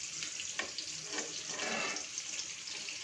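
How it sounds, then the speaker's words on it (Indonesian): Tofu frying in a pan for an Indonesian taro-stem vegetable dish, a steady close hiss and crackle of hot oil running continuously with small pops, with no talking. "Itu lagi goreng tahu."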